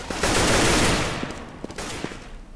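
Counter-Strike gunfire on the map de_cache, a loud burst of automatic fire followed by a few sharp, separate shots as the sound tails off, with no voices over it.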